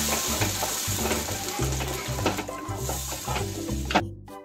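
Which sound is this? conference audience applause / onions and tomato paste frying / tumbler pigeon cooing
onions and tomato paste frying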